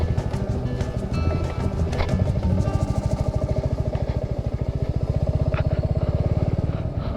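An off-road motorcycle creeps downhill in first gear on slow throttle, its engine thumping in a steady, close, low pulse that rises slightly midway.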